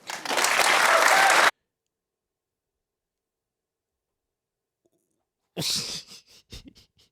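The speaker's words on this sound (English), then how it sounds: "Why is Pastor clapping with so much conviction?" A pastor claps with conviction on a live TV broadcast, a dense burst of clapping for about a second and a half, then silence, then a few scattered claps and noises near the end.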